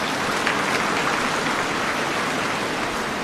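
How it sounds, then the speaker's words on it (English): A large audience at a heads of state summit award ceremony claps steadily and densely, forming a continuous wash of applause with no speech over it. "I think she deserves a second round of applause."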